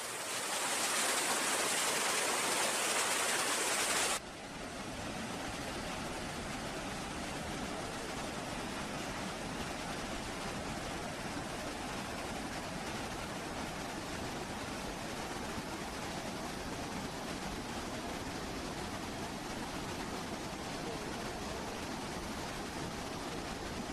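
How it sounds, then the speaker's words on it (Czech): Rapids on a Canadian river rush in a steady, dense roar of churning water that goes on unbroken and fills the scene, with no voices. "Podle mého názoru se jedná více o peřeje než o vodopád."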